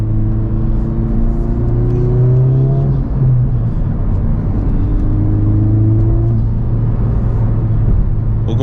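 A Honda Civic Type R drives along with a loud engine drone inside the cabin. The revs rise and fall with audible shifts and a steady road rumble underneath.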